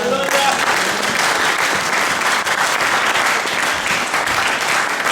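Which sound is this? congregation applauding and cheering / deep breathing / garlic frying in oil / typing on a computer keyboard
congregation applauding and cheering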